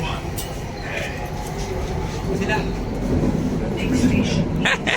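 A driverless metro train rolls in and runs along on the Agra to Delhi trip, a low rumbling hum that swells toward the end while people talk over it.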